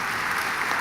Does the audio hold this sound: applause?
yes